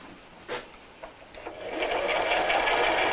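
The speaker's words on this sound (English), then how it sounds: "now I'm going to sew all the way around the top of the bag" A sewing machine stitches around the top of a fabric tote bag, starting with a few soft clicks of the presser foot and needle before the motor whirs up into a steady, close, continuous hum.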